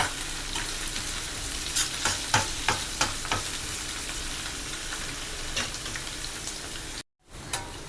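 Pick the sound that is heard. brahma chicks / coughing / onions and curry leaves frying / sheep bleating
onions and curry leaves frying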